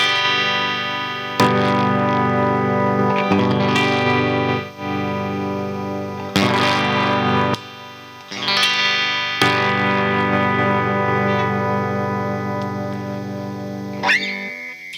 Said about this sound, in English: The preamp adds quite a bit of boost. It's almost like an overdrive, maybe.